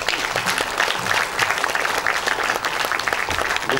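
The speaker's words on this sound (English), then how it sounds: "our panelists deserve a very good round of applause." An audience at a conference session applauds for its panelists, a dense, steady clapping from many hands that fills the room evenly for several seconds.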